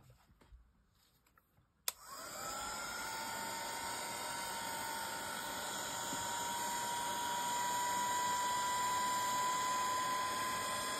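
A hair dryer runs to dry a pigment powder craft piece, switching on abruptly after a quiet start, then a steady loud whirring hum that grows slightly stronger, alone without talk.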